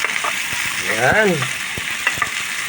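Tomatoes frying in a pan, a loud continuous sizzle with a spoon stirring and scraping through it, close up, with a brief higher squeal in the middle and no talking.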